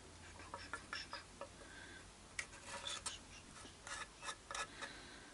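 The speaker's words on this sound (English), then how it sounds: "maybe I'll scrape it out around first" Glue is scraped out of a Squier Vintage Modified Strat guitar body with a series of quiet, close, short scratchy strokes in an irregular rhythm.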